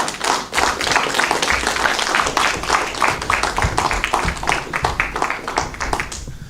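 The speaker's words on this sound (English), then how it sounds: "A bigger round of applause for Jim" An audience gives a round of applause at a productivity awareness week discussion, with dense, loud, sustained clapping that runs steadily for several seconds and fades slightly at the end.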